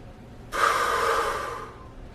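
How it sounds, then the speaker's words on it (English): One deep breath drawn in during a back stretch, a loud close airy inhalation that begins abruptly and holds for about a second before tapering off, surrounded by quiet. "we're going to take in a deep breath"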